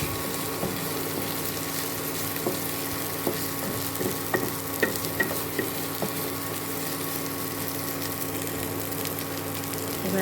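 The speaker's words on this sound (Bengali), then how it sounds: "আবার একটু নাড়াচাড়া করছি" A shrimp paste dish is stirred in a pan as it cooks dry, with a steady low sizzle and repeated scraping and tapping of the spoon against the pan, continuous and close.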